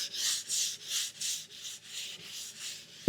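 Hand sanding of a cherry wood side table with sandpaper, light pressure: seven steady rhythmic back-and-forth rasping strokes, close and clear, with no talking.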